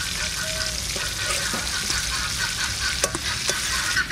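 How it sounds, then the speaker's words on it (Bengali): Shol fish sizzles steadily as it fries in mustard oil in a village kitchen, a constant close crackling hiss with a few scraping stirs near the end. "এদিকে মাছ ভাজা হতে হতে আমি এদিকে মশলাগুলো করে নেব"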